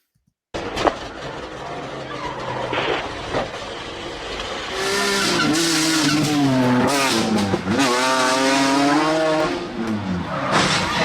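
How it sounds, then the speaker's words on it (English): Race cars in a super speedway wreck: engines roar loudly, then tires squeal and skid in rising and falling wails, with impact bursts and sustained racing noise close up. "But they end up getting a big wreck anyway."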